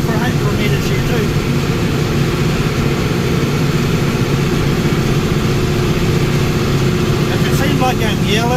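Old tractor engine running steadily from inside the cab while mowing, a loud continuous low rumble and drone that fills the whole stretch, with a voice talking over it in places.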